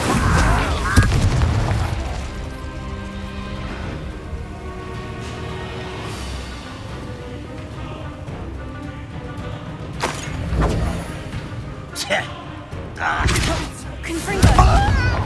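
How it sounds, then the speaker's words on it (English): In the Hogwarts Legacy game, an Incendio fire spell goes off amid combat. Heavy booms and thuds burst out at intervals over a rumbling background, loud and close, with a voice talking through the fight. "Incendio!"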